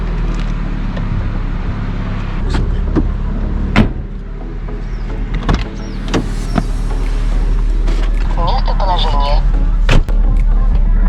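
Car interior during a taxi ride in Bukhara, Uzbekistan, with a steady low road and engine rumble, a few sharp knocks and clicks, and a short electric whir near the end; people talk occasionally.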